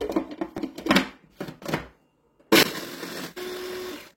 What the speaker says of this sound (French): Je vais hacher les spéculoos, 250 g de gâteau spéculoos.